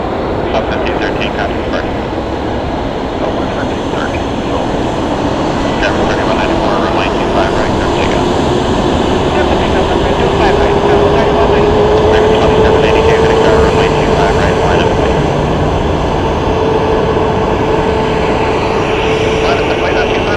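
A fixed-wing aircraft engine roars steadily and loud at Phoenix Sky Harbor Airport, a constant broadband drone with a slowly rising tonal whine.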